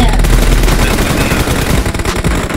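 Heavy automatic gunfire from the BGMI battle royale video game, a loud continuous burst of rapid shots with brief gaps near the end, close and dominant.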